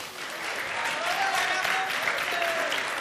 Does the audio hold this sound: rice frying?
no